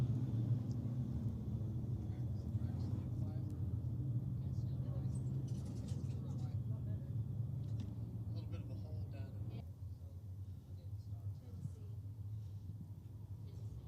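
B-Modified race cars running at Lakeside Speedway, a distant continuous engine rumble and roar under a race announcer's commentary, easing slightly after the opening stretch.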